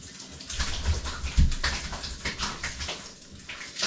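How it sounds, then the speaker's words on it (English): Cold shower water pours and splashes steadily at close range, with a few heavier slaps of water, and no one speaking. "Now let's take that cold water off."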